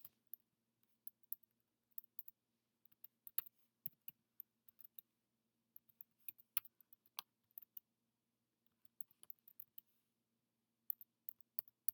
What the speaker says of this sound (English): And then I'm just going to go ahead and type in the definition.